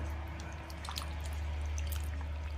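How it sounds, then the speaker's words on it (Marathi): Fresh mutton is washed in clean water while cooking, with soft drips, squishes and sloshing splashes over a low steady hum, fairly quiet and close, with no talking. "आपण स्वच्छ पाण्याने चार पाच वेळेस धुवून घेऊ"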